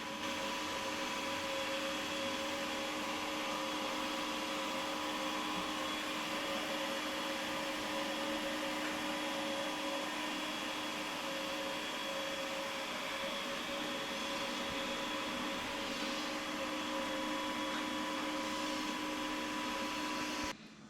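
A Dreame X50 Ultra robot vacuum's docking station runs steadily while washing its mop pads and emptying collected dust, a continuous loud mechanical whir with tonal motor hum that holds for the whole stretch and cuts off at the end.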